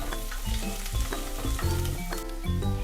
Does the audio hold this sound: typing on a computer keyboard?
no